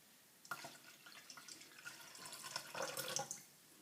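A cup of water poured into a pan for a sugar and pickling spice mixture, heard as a faint, close splashing and trickling stream that swells toward the end, with no talking.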